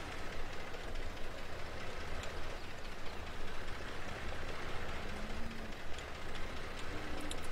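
Small tractor engine in Farming Simulator 17 running steadily with a low, continuous rumble and constant loudness throughout, no talk over it.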